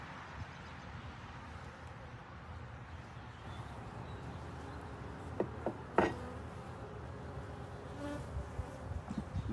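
Honeybees buzzing steadily around an open beehive during a hive inspection, a continuous close insect drone with a few brief handling knocks partway through.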